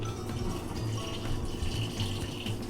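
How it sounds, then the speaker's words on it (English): Water poured off bamboo shoots into a kitchen sink while cooking ramen, a continuous splashing, gurgling rush that runs steadily for the whole stretch. "Drain your bamboo shoots."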